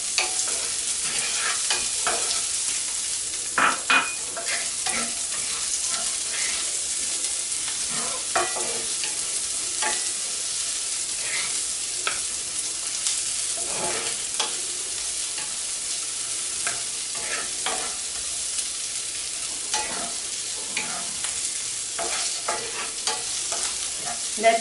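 Onions frying in canola oil, a loud, dense sizzle that runs unbroken, with scattered pops and the scrape of stirring, close up and without voices.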